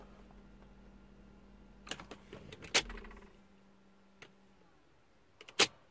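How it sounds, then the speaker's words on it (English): Something in the rear of a Lexus SC 430 convertible primes itself with a low hum and a scatter of small clicks and ticks, faint and close, rising to a few sharper snaps. "Something in the rear of the car priming itself."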